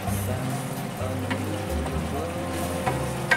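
Basil and chili stir-frying in a pan for pad krapao, a close, steady sizzle with scraping stir strokes and occasional small spatters, continuous throughout.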